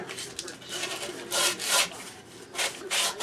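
Sandpaper rubbed by hand against a surface in a workshop, heard as a series of close, rough scraping strokes with short pauses between them.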